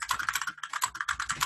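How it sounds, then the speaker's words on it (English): Rapid typing on a computer keyboard, a dense run of close, crisp key clicks in an irregular rhythm with no speech. "Sorry about the keyboard noises."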